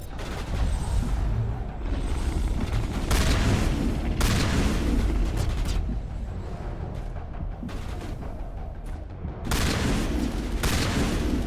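Heavy, booming shotgun blasts in Mass Effect: Legendary Edition come in repeated loud bursts amid dense combat noise, with no talking.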